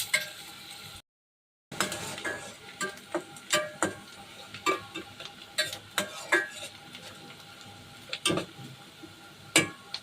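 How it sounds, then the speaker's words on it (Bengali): Two large onions frying lightly in a pan: a quiet steady sizzle broken by repeated sharp scrapes and clicks of a spatula against the metal, with a brief drop to silence near the start. "পেঁয়াজগুলো একটু ভেজে নেব, লাল করবো না"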